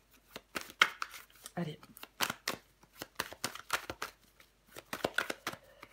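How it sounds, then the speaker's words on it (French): Tarot cards being handled, shuffled and laid out by a woman during a reading, with crisp snapping flips and soft slides that come in irregular bursts. Her voice talks over them briefly. "Je vais recouvrir des cartes."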